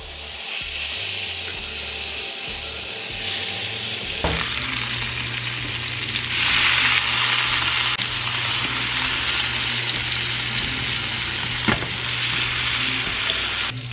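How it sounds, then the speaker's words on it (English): Meat sears in hot oil in a cast iron pan, giving a loud, steady frying sizzle with bright hiss throughout and a couple of sharp clacks as pieces are moved. "we're going to sear our meat all over"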